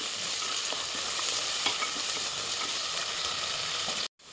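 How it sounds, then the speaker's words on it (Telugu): Chicken frying with coriander, mint and onions in a pan for biryani, a steady close sizzle with stirring scrapes throughout, cutting off briefly at the end. "కొత్తిమీర వేసుకోవాలండి దీన్ని మంచిగా ఫ్రై చేసుకోవాలి మనం"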